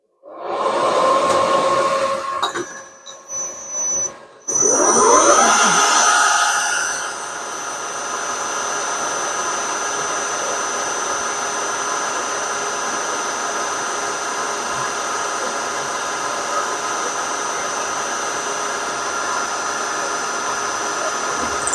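A metalworking machine takes cuts on steel valve rods: a startup whine with short interruptions gives way to a steady, loud grinding and cutting drone that holds for a long stretch, close by, with no talking.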